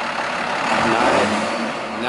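A miniature Peterbilt diesel semi truck with smokestacks revs on a test drive, its engine rising to a peak and easing back, close and loud throughout the short burst.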